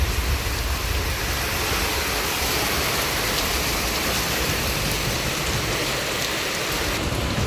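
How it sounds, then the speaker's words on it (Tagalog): Sudden heavy rain pours down steadily during a power outage, a loud, dense, continuous wash of rainfall with no talking. "Okay na rin na umulan para hindi masyadong dry naman yung paligid natin."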